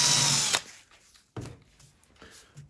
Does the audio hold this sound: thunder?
no